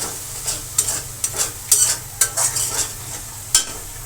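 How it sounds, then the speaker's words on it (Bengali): Dried fish stir-fried with spice paste in a pan, a close, loud sizzle broken by repeated sharp scrapes of the spatula in an uneven rhythm. "শুটকিটাকে ভালো করে এখন এটার সাথে একটু কষাই নিব"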